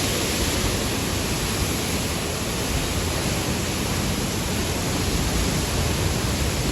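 A steady, powerful roar of rushing water pours without pause from the full Pincha project dam, loud and continuous like a spillway at full flow.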